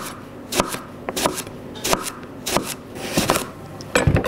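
A knife cuts eggplant into slices on a board, producing a string of sharp, close chopping strokes at a steady pace, about one every half second, with no voices.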